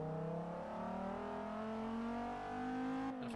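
A strong 8.4-litre V10 engine in an SRT Viper with a manual six-speed transmission, in the racing game Forza Motorsport 6, drones steadily and rises smoothly in pitch. A brief shift interrupts it near the end.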